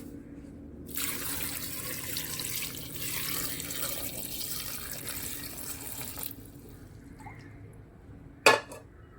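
Water runs steadily from a tap into a pressure cooker for several seconds while rinsed dried tapioca is prepared in a Kerala kitchen, then stops, followed by a single sharp clatter of a pot or utensil.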